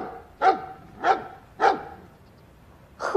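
A small dog barks three times in an even rhythm, close and fairly loud, with a fourth bark starting at the end; no one talks over it.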